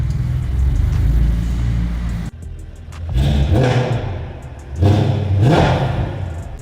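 A car engine revs at about 2000 rpm, with a loud rumbling drone that cuts off briefly and then surges in two strong pushes of rising whir, heard close and alone.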